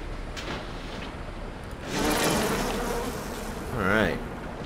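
A steady buzzing drone of a bee swarm in BioShock that swells twice, with a brief rising warble near the end, loud and close.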